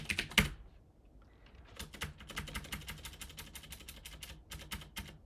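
Someone types a terminal command on a computer keyboard, with a short burst of keystrokes, a pause, then a long run of quick, evenly spaced clicks, close and clear with no talk.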